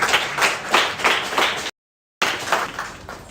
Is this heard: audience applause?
yes